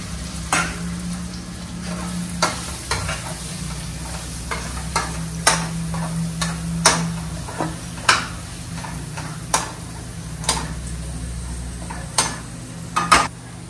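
Potatoes are stirred into a lentil dum biryani mixture in a pan, a soft sizzle underneath regular scraping knocks of a spoon against the pan repeating every second or so.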